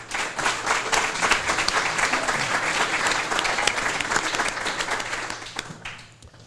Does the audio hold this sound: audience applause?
yes